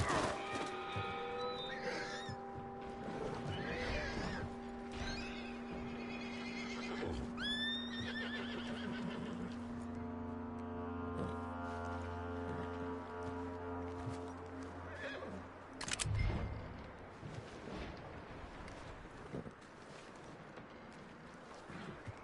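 A horse in the video game Red Dead Redemption 2 whinnies and snorts close by, with hooves clopping and shifting around it over a low ambient background.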